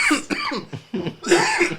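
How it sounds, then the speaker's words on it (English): A person coughs close by, in a quick series of harsh bursts and throat-clearing sounds spread over under two seconds. "I'm cooked because I got a cough."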